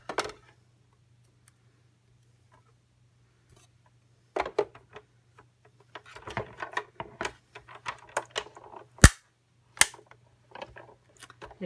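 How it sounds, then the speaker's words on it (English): A Cuttlebug die-cutting machine cranks through a plate sandwich, producing irregular crackles, creaks and sharp cracks from about halfway in, with one loud snap, after a quiet stretch and a few handling clicks; no talking. "don't worry about that cracking sound. That's perfectly okay, because it was cutting"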